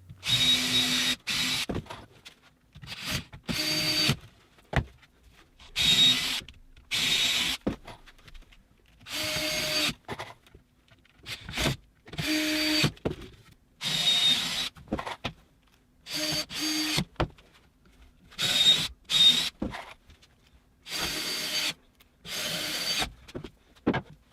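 Power drill driving screws into glued workshop shelves, in repeated short bursts separated by silent pauses, close and fairly loud with no talking.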